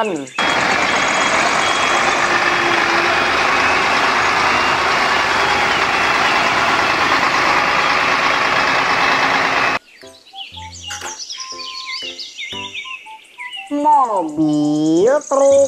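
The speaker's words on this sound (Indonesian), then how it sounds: "Mobil, truk molen." A toy cement mixer truck gives off a loud, continuous engine-like rumble for several seconds, which cuts off abruptly into a string of brief electronic tones and warbling sweeps.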